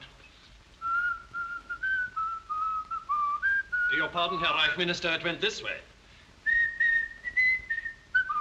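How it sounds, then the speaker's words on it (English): A person whistles a melodic tune in the night, clear and fairly close, in two phrases separated by a burst of a man's speech. "First, a scrap of music whistled in the night."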